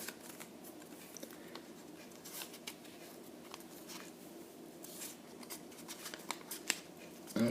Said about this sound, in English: we're going to fold this in half again, this way, lengthwise